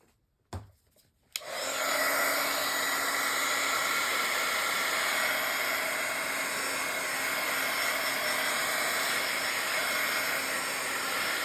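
A hair dryer blows on a freshly inked journal page, starting with a brief click and then running as a steady, even whooshing hiss for about ten seconds, alone and close by.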